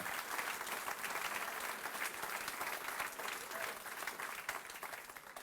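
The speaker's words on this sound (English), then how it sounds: "let's give these guys a round of applause" A room full of people applauds at a city address in Hamilton, Ohio, a steady wash of many hands clapping that holds evenly throughout, moderately distant and unbroken by any voice.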